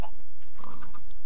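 A pig oinks in a blocky farming video game, one short grunting call standing alone.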